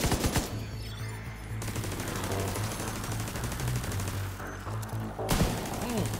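Automatic weapon fire from the Division 2 video game rattles in dense, sustained bursts throughout, loud and close, with heavier individual shots near the start and end and no clear speech.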